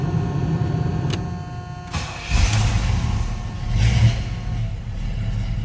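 A 1978 Pontiac Trans Am's 6.6-liter V8 with automatic transmission starts: a short crank, the engine catching with a loud rise around two seconds, then a steady rumbling idle with another swell of revs near four seconds, heard close and alone.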